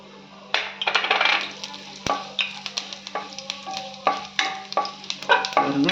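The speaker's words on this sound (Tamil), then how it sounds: "இப்போ நம்ம ஜீரகம் போட்டுக்கலாம் ஜீரகம் நல்லா பொரியட்டும்" Cumin seeds splutter and pop in hot oil in a pan, a dense run of sharp crackles and small bursts over a low steady sizzle, close and without talk.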